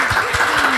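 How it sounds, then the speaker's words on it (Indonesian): A short burst of audience clapping at a school talent talk show, close and fairly loud, lasting under a second. "Beri tepuk tangan dulu."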